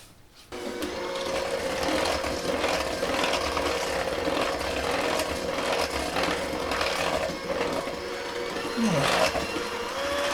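An electric mixer beats chocolate cake batter in a bowl with a continuous close whirring motor hum that starts abruptly and holds steady, with light scraping and clinking of beaters against the bowl.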